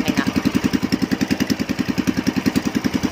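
Close, loud fishing boat engine chugging in a fast, even rhythm, a steady throbbing idle with no voices.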